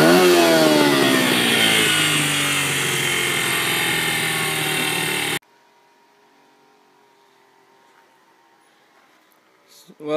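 A junk-built UTV engine fitted with a camshaft revs hard and loud for about five seconds with a rough, choppy growl, then cuts off sharply, leaving near silence and a faint noise at the end.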